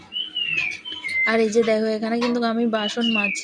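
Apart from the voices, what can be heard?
bird calling loudly in the morning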